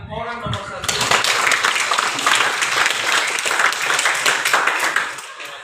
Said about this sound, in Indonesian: kita tepuk tangan dong dengan orang nomor 1